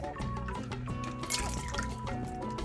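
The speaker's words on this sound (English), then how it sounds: "we're gonna pour it into the glass" An AppleTini cocktail trickles and drips into a glass, a gentle liquid pour with soft splashes, close and fairly quiet.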